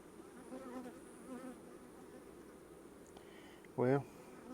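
Honey bees buzz around a beekeeper handling instrumentally inseminated queens, a faint continuous hum close by with brief voice sounds near the end.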